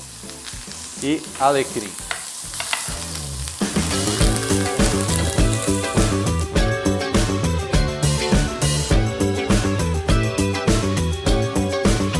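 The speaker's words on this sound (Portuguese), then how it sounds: "aquele processo clássico que vocês conhecem de banhar a carne com manteiga e erva" A rack of lamb sears in a pan while being basted with butter, thyme and rosemary, a loud continuous sizzle under steady background music, with a brief spoken phrase near the start.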